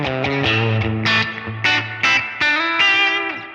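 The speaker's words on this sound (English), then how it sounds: "we kind of get that swimming and reverb effect back fairly quickly" An electric guitar played through a Line 6 Helix with a big, swimming modulated reverb rings out in short chords and sustained notes that shimmer and trail off, with no talking.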